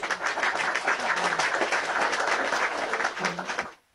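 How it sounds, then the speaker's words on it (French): A burst of group applause, dense and fairly close, clapping steadily for a few seconds before cutting off abruptly at the end. "On applaudit pour moi."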